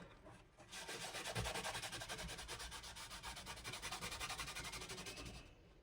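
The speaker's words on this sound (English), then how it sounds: "put a little bit on the cloth, and then start rubbing it everywhere on the guitar" A cloth is rubbed back and forth over the wooden body of an old acoustic guitar to apply finish, giving a close, steady, rhythmic scrubbing swish for several seconds with no talking.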